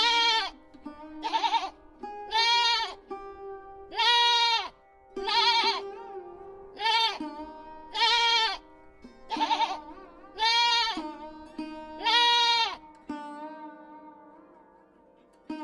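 Cartoon goats and sheep bleating in a farm scene, a long series of loud, close, wavering bleats following one after another with short gaps, and no talking.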